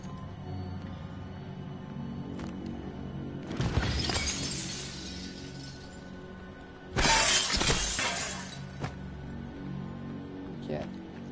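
Glass smashes twice in the space-station game Prey, two loud bright shattering crashes a few seconds apart, each trailing off into tinkling shards over a quiet ambient hum.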